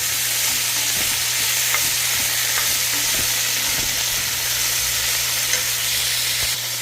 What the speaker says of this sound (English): I put my onions and greens in the same thing. So just going to add that to there. Give it a little bit of a stir.